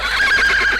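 A horse whinnies in a single loud, close neigh with a wavering, pitched cry lasting under a second, with no talking over it.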